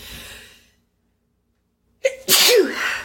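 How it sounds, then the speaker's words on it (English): After fading breath and a moment of silence, a person lets out a single loud, explosive sneeze with a sharp intake just before it. "I'm about to sneeze."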